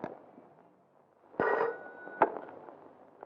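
An old telephone bell rings once in a short, sharp burst indoors in an old Hindi film, followed by a click as the receiver is picked up, set against near silence.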